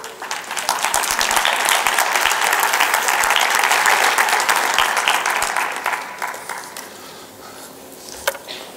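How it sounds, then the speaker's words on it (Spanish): Audience at a national Catholic educators' congress applauding a speaker, dense sustained clapping for several seconds that thins out and fades, a few scattered claps and a clack near the end. "dudo si interpretar estos aplausos en"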